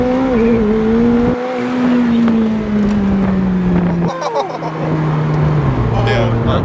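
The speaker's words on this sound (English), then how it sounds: "1st gear, 2nd gear pulls are one of my favorites" A McLaren 765LT pulls hard through first and second gear, its engine note sweeping steadily under heavy wind roar, with a brief dip at the shift and a second rising pull afterward.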